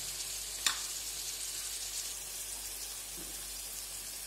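Tomato pieces fry in a pan for village-style palak paneer with turmeric and salt, giving a close, steady sizzle with a sharp clink near the start and faint stirring later.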